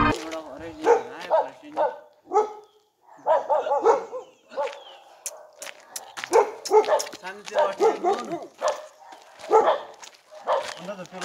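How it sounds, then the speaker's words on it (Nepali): Two dogs bark repeatedly on a forest trail near forest quarters in Darjeeling, giving close, loud, irregular bursts of barks and yips, with people talking in between. "यहाँनिर चाहिँ हामीलाई दुइटा कुकुरहरूले बाटोमै भुकेको भुकेकै हामीलाई अगाडि बढ्नु दिएको छैन।"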